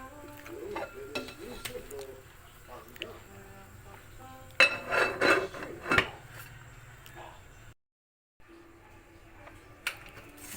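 Metal pot lid set back onto a cooking pot of sinigang, a cluster of close clanks and rattles, with a few lighter utensil clinks before and after against a quiet kitchen background.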